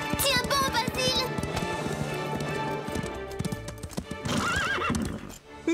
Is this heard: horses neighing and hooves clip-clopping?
yes